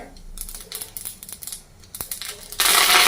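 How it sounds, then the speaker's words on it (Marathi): Mustard seeds crackle and pop in hot oil in a pan while a tempering is being made. Scattered sharp pops come first, then a loud, dense sputtering sizzle takes over near the end. "यामध्ये आपण मोहरी घालूयात मोहरी तर तडली की जिरं घालूयात"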